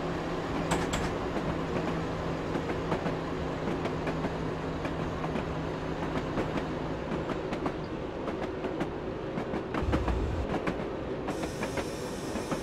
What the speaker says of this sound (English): Love the track audio on this nice clickety clack.